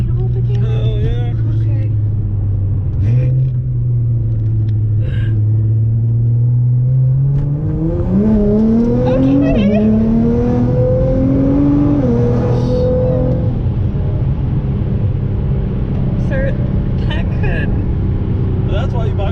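A Dodge Viper ACR accelerates hard up a highway on-ramp, its engine droning loud and close with rising revs and a gear change, heard from inside the car over constant road rumble while occupants talk over it.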